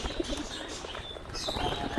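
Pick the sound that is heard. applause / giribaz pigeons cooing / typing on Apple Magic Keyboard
giribaz pigeons cooing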